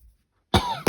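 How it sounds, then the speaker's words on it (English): A single sharp cough bursts out after a stretch of near silence, followed by a brief second catch at the end. "it hurts to cough"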